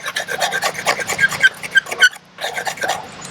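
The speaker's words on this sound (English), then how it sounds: "Scrape. Just get some fine stuff to get started." A knife blade scrapes wood into fine tinder shavings, a close, loud rasping series of quick strokes with a brief pause before scraping resumes.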